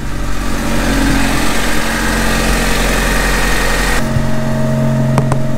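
A Honda Civic fitted with a single cam header and a deleted catalytic converter idles loudly and steadily up close, its tone shifting abruptly partway through to a slightly different, smoother drone.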